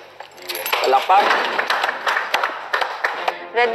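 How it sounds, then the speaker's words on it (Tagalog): A group clapping at a lively indoor game challenge, with dense rapid claps forming a steady crackle throughout and voices mixed in underneath. "Palakpak."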